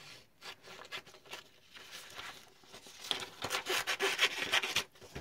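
Scissors cut a numbered slip of paper for a giveaway draw, with close, fast crisp snips and rustling paper that grow louder and denser toward the end.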